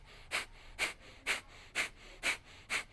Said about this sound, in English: you can go into what we would refer to as the breath of fire and its speed